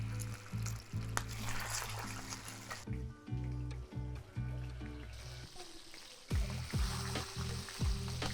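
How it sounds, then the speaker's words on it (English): Milkfish (bangus) frying in a pan over medium-high heat, a steady close sizzle with crackling and repeated pulsing bubbling bursts, heard alone without talk. "We're gonna heat our pan, mga medium-high heat, because we're gonna fry our bangus first."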